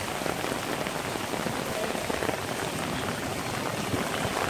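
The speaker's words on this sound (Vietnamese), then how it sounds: "Nhưng ở đây Việt Nam của chúng ta thì ngày nào cũng có mưa luôn." Steady rain falls in Saigon, Vietnam, a dense, even hiss of drops hitting surfaces close by, continuous throughout with no talk.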